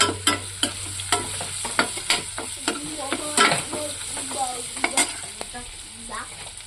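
Goat spleen frying in oil in a pan, with sizzling and repeated scraping stirs of a spatula, close and steady throughout.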